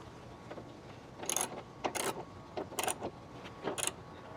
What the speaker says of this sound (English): let me go ahead and grab this tool and let's go ahead and tighten it